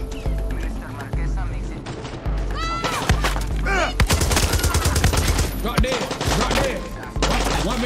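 Shotgun blasts in the video game Far Cry 6: a quick run of loud, punchy, close shots that come irregularly over game sounds and music, with some heavy thumps between.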